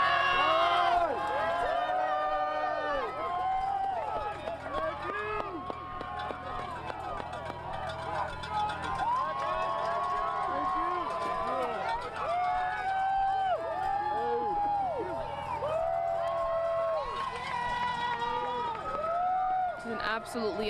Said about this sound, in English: They're just cheering and thanking these players as they walk by,